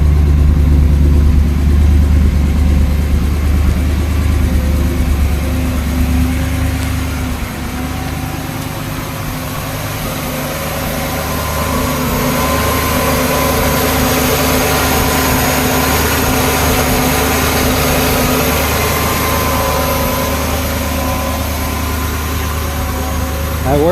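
A fuel-injected 1957 Pontiac Bonneville engine runs at a steady, loud, droning idle nearby, its low rumble easing slightly after the opening seconds and then holding even to the end.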